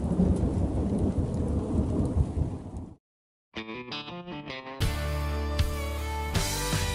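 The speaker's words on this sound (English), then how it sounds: "An afternoon thunder shower popped up with some lightning" Steady afternoon thunder shower rain with rumbling thunder for about three seconds, then a brief silence before music cuts in and plays to the end.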